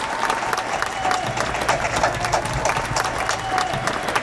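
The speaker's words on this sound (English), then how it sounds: "Y'all give them a big round of applause." An audience at a TV show taping applauds performers in a dense, steady wash of clapping that holds loud and even throughout, with possible faint cheering mixed in.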